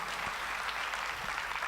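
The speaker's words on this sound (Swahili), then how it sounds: "Naomba tumpigie makofi mkuu wetu wa mkoa." An audience claps steadily for the Dar es Salaam regional commissioner at an engineers' conference at Mlimani City, a dense, sustained round of applause from a crowd with no voices over it.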